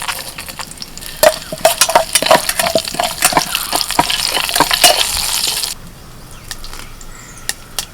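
Dried red chillies, urad dal and mustard seeds sizzle and crackle in hot oil for a South Indian tempering, with steady frying hiss, sharp popping seeds and occasional spoon clinks against the pan, quieting near the end.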